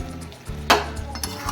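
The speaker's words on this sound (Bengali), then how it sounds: "এর মধ্যে এবার ভাজা মাংসগুলো দিয়ে দেবো।" Fried chicken pieces dropped and stirred into sizzling Kashmiri-chili masala in a pan: a short sharp sizzle burst with a scrape of the spoon, then steady frying crackle, close and moderately loud.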